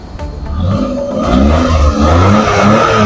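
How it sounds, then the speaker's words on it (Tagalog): A Suzuki DA65 engine revs up loud and close, its exhaust note through the muffler rising and holding at a throaty, rumbling pitch. "So, James, pakita natin yung tambutso, yung muffler."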